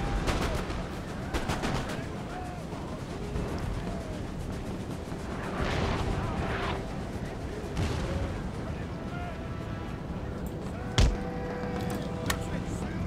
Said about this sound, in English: You see that artillery fire still just coming in.